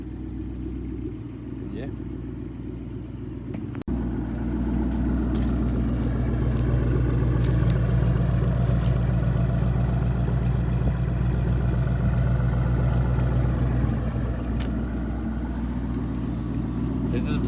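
A high-mileage Ford Mustang (about 400,000 miles) cold starting: a sharp start at about four seconds, then a steady low, rumbling idle that holds and swells slightly, with a brief voice at the beginning.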